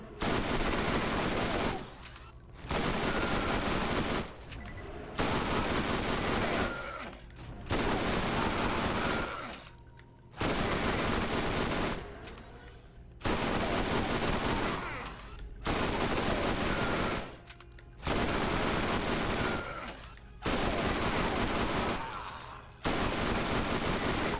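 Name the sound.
gunfire in the video game Borderlands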